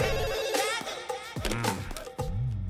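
A telephone rings in a comedy film scene, its repeated bell tones sounding loud and close over background music and effects.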